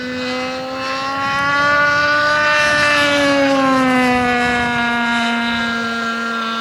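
A nitro-powered RC model airplane on its maiden flight, its small glow engine giving a loud, steady high-pitched buzz that rises and falls slightly in pitch as it passes overhead, with no talking.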